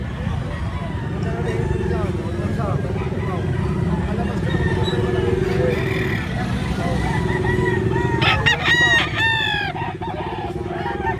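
Gamecocks offered for sale cluck and shuffle close by under a steady murmur of background voices and a passing vehicle, then one rooster lets out a loud, clear crow near the end.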